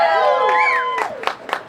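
An audience at a Scottish cooking show at the Pennsylvania Renaissance Faire 2021 breaks into short bursts of cheering and whooping right after one voice rises in a long, climbing call.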